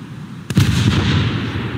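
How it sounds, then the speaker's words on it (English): A single heavy naval gun blast from the cruiser Leipzig in the War Thunder game: a sharp, loud report that rolls into a long booming rumble and fades slowly, with no talk over it. "I think the back guns will hit, the front guns will miss."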